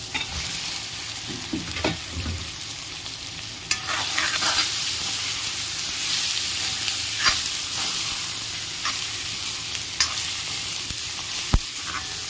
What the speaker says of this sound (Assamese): এনেদৰে অলপ সময়ৰ কাৰণে ভাজি ল'ম।